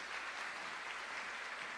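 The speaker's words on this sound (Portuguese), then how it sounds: "Agora vamos aplaudir de novo a vida delas." A conference audience claps for standing visitors, a dense, even burst of applause that stays steady throughout the short moment.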